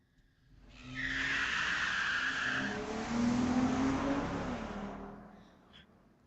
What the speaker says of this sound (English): David Stobie squealing off the line.